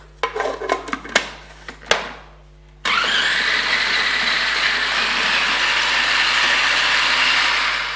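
Kitchen blender whizzing ingredients for crumb fried fish; a few clicks and knocks come first, then the motor kicks in with a loud, steady whir that runs to the end.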